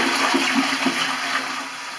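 Toilet cistern with a slow hidden leak being flushed, water rushing steadily as the tank empties, close and continuous with no voices.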